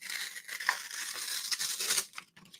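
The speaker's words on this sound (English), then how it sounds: "Let's try ripping this glossier paper." Glossy paper being ripped by hand, a bright rustling tear stretching across about two seconds with a few crackly peaks, close and moderately loud with no voices.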